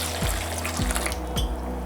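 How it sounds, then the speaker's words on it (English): Warm milk is poured into a bowl for whole wheat jaggery buns, a steady close liquid pour with faint gurgles and no talking. "I'm going to pour half of the milk that we've taken"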